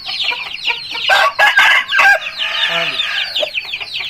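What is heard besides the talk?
aseel rooster clucking and crowing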